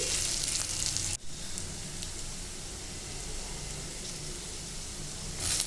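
Onions fry in a pan with salt for a bottle gourd curry, giving a steady, close, fairly loud sizzle that runs throughout with one brief dip and a slightly brighter crackle near the end.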